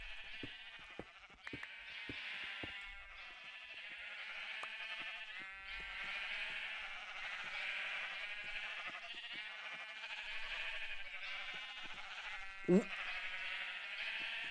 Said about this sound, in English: I hear a bunch of sheep.